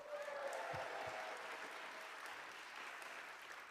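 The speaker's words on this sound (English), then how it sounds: "Let's just give a round of applause for everyone that's still in this room right now." Audience applauding inside a room at a peace teach-in, a steady wash of clapping that fades slightly over a few seconds, heard at a fairly low level with no talking over it.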